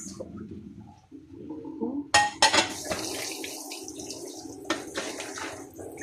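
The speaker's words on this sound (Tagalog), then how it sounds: "Dali rin ang hugas nito guys" Dishes being washed under running water at a sink, a steady splash of tap water with sharp clinks of plates and pots, close and fairly loud for most of the stretch.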